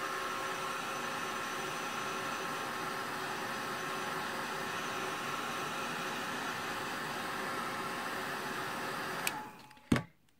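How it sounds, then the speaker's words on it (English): A craft heat tool blows a steady, even rushing whir as it dries ink on a mini album project. The sound is alone and close, then cuts off abruptly near the end with a brief clunk. "And then I take my heat tool and dry it because I'm impatient."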